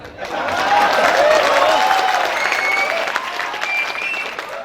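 Applause swells from a kavi sammelan audience at a literature festival poetry recital, close and loud, building quickly and holding as a dense clapping wash with faint vocal tones running underneath.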